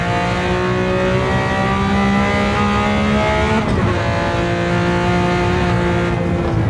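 Lamborghini Countach 500S Walter Wolf Special in a racing video game, its engine droning loud and steady at high revs, dipping briefly on a downshift before pulling on again, with no talk.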